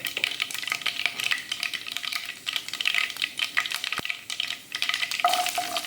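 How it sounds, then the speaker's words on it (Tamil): Dried red and green chillies frying in hot oil for a Tamil meen kuzhambu fish curry: close, crackling sizzle with constant tiny pops and occasional spoon scrapes and clicks, no voices. "அது பொரியும் போதே காஞ்ச மிளகா ஆட் பண்ணிக்கணும்."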